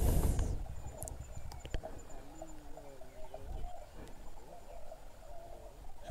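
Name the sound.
various birds calling and crickets chirping in a valley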